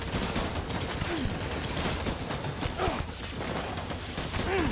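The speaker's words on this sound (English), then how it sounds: "Open fire." Gunfire in Death Stranding: a dense, continuous fusillade of rapid shots with crashes and mechanical clatter, loud and sustained through the whole stretch, with no talk over it.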